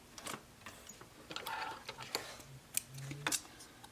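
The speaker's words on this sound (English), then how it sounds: "I'm going to back stitch and come to the other side" A leather bag being back-stitched by hand, with scattered close clicks and soft pulls of needle and thread through leather, irregular and quiet.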